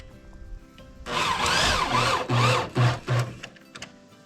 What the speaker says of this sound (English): I'm going to put a screw in it over here just to hold that